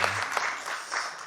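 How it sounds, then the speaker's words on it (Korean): A church congregation at a Sunday service in Hanam claps to welcome the youth group; soft, diffuse applause that stays fairly even and subdued for about a second. "우리 박수 한번 해주시겠습니까?"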